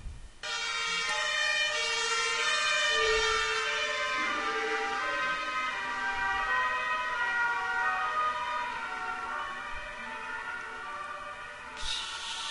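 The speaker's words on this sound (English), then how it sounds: "there's apparently some ambulance driving in past my apartment" An ambulance siren wails steadily outside an apartment as the vehicle drives past, loud and sustained for several seconds and then fading slightly, with no talking over it.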